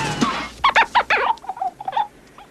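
Several short, nasal quacking calls in quick succession from a few birds nearby, loud at first and trailing off into softer calls.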